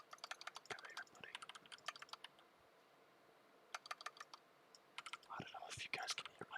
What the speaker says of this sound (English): I don't know if you guys can hear my keyboard.